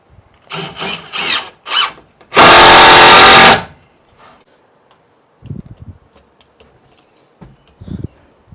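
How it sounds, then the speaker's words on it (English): A cordless drill drives a screw into wood with a single loud, high whirring burst of about a second, set between short scraping and knocking handling noises and followed by quieter thuds. "Let me put a screw in it to hold it up."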